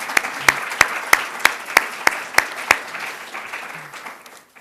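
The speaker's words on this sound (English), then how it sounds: "give Jen a huge round of applause" Scattered audience applause after a call to applaud a project leader at a law leadership event: a few sharp, separate claps in a steady rhythm that thin out and fade away, with no talking.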